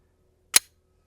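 A single sharp crack from a .22LR pistol fitted with a Glock-size suppressor, fired outdoors; one brief clean report with a quick decay and no talking.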